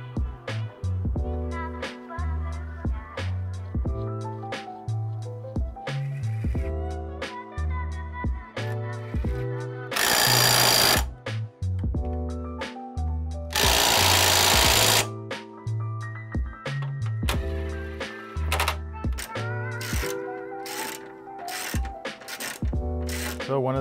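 A power tool tightens suspension bolts under a Lexus IS300 in a garage, with rapid rhythmic whirring and clicking bursts and two louder, longer noisy blasts partway through.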